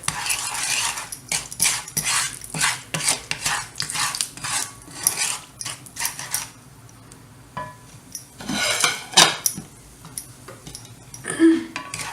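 A utensil scrapes and stirs sugar frying in a pan in quick, uneven strokes, close and fairly loud, with brief pauses and a faint background hiss of cooking.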